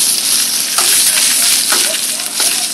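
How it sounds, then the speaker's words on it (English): Steak for a one-pot ranchero dish sears loudly in a pot outdoors, a dense, steady sizzle with occasional crackling pops and no talking. "This meat is searing as we speak."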